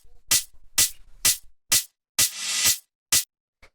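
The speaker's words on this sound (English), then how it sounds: "So the first one here is going to be this main open hi-hat, which sounds like this." A main open hi-hat built from three layered samples sounds alone, struck about seven times in bright, sizzling bursts with short gaps, one hit ringing out longer than the rest.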